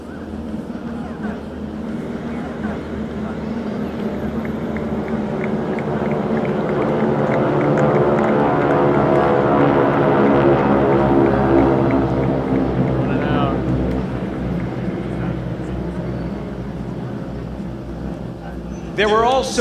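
A World War II propeller trainer aircraft in a flight of four drones overhead, its buzzing roar swelling to a loud peak as it passes and then fading away into the distance.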